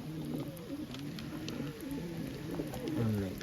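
Pigeons in a loft give soft, repeated rolling coos that overlap one another against a steady background hiss, moderately close and gentle.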